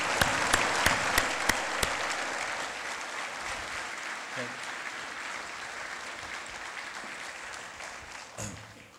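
An audience applauds at a city's State of the City address to welcome a new international business, steady clapping filling the room, opening with a few sharp, louder claps and a small bump near the end.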